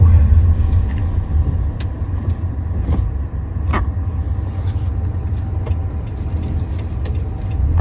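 A car rolls slowly through a crowded area while searching for a parking spot, a continuous low cabin rumble with faint passing knocks and clicks, no speech.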